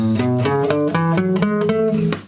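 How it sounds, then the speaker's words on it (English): A major scale in the Ionian mode rises note by note on a bright, plucked or keyed instrument, evenly paced, ending on a ringing top note. "This order is called Ionian. Sounds like this."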